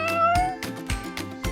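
A cat meows several times in quick succession, loud and close, each call short and tonal with brief gaps between them, and no talking.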